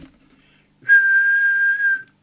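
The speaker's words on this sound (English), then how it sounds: "Now we'll give it the whistle test." A person whistles a single steady, sustained tone for about a second into the microphone of an Audioline 342 UK CB radio (27/81 MHz mobile) during transmit adjustment, clear and close after a quiet pause.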